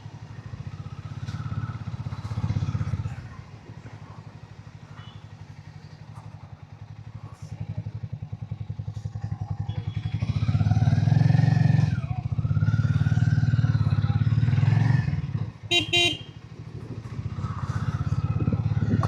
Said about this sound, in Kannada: Exhaust note ಸಖತ್ತಾಗೈತೆ.